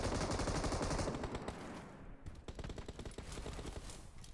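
Dense automatic gunfire in PUBG Mobile, with P90 and MG3 weapons in play, firing in a steady rapid rattle of near, loud shots that keeps going throughout, with no talk over it.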